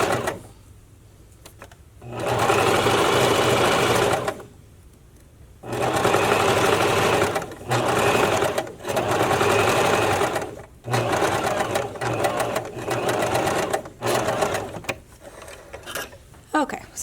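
Domestic sewing machine stitching the upper elastic onto a bra band, running in several steady bursts separated by short pauses, close and loud with no talk.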